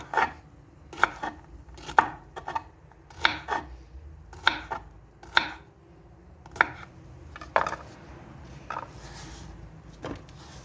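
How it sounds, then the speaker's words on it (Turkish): Knife chopping jalapeño peppers on a board in steady, distinct strokes, about a dozen sharp chops spaced roughly evenly, close and fairly loud. "Böyle şimdi doğrayacağız arkadaşlar"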